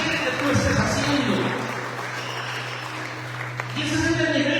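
Church congregation applauding at a charismatic service, a continuous round of clapping that swells, dips slightly midway and rises again, with voices and a sustained low tone running beneath.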